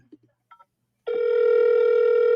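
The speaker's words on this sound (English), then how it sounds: "Is this a phone call?" A recorded telephone call plays back: a few faint clicks, then a sudden steady electronic phone tone that holds loud and unbroken to the end.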